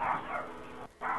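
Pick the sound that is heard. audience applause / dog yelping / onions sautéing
dog yelping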